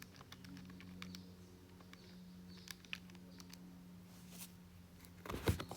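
Numbers tapped into a calculator: a run of small, soft button clicks, faint and irregular, ending in a louder clatter of handling near the end, with no talking.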